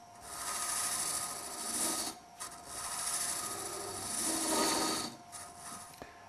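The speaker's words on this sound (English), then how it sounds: "Approach the wood slowly and start to cut" A Robert Sorby Ultima turning tool cuts into spinning wood on a lathe with a raspy, scraping hiss, in uneven bursts separated by short pauses.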